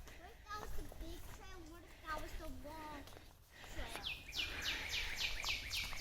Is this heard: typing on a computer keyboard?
no